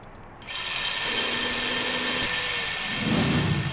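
A hand drill boring keyholes in the Mystery Trackers game starts after a brief pause and runs as a steady whirring grind with a tonal whine, growing coarser toward the end.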